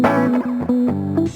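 A chill Two Feet style beat runs through an RC20 VHS preset, with a warm, wobbly, lo-fi tone; a low sustained bass note shifts pitch a few times over a short, steady phrase with no voices.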